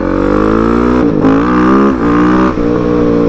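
A modified 2024 KTM 690 SMC R supermoto motorcycle engine revs loud and close, its steady throaty drone briefly dipping and surging back three times.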